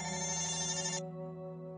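A human voice mimics a telephone ringtone during a tabletop role-playing session, a steady electronic-sounding trill held for about a second before cutting off, leaving a faint hum behind.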